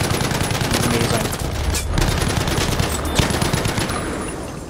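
Sustained automatic fire from a light machine gun emptying a big magazine in a shooter game, dense and continuous for several seconds with a brief dip midway, loud and close, with faint voice mixed in.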